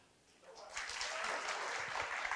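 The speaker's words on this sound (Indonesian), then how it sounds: "Kira-kira yang percaya tepuk tangan." Church congregation clapping during a Christmas sermon, the applause swelling from near silence into a steady, dense patter from many hands that holds to the end.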